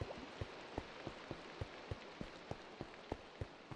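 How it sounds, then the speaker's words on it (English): Quiet, steady rain falls in Minecraft, a soft hiss broken by regularly spaced dripping ticks, with no voices. "And of course, it's got to rain at least once per stream, right?"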